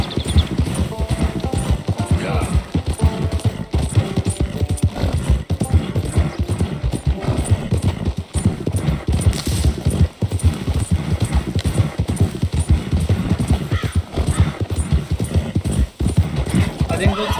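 Horse hooves clip-clopping at a steady trot in the Red Dead Redemption 2 video game, continuous rhythmic hoofbeats close by with occasional talk over them.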